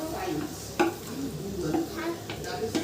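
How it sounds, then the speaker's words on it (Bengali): Mutton for Bengali kosha mangsho fries with spices in a pan over a wood fire. A steady sizzle runs beneath scraping stirs, and there are a few sharper knocks of the spoon against the pot. "কষা মাংসটা কষিয়ে নিই, তারপর দেবো।"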